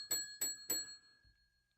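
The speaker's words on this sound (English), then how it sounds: "There's a bell in here." A small bell in a radio studio rings three quick, bright dings in an even rhythm, each leaving a short ringing tone that fades into near silence.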